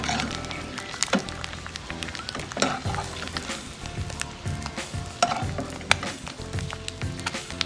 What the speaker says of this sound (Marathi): आपली अंडी फ्राय झालेली आहेत।